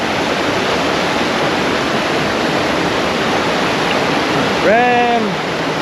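A mountain stream in Nagaland flows on a rainy day, its steady broadband rush of water loud and continuous throughout, with a brief tonal voice-like sound near the end.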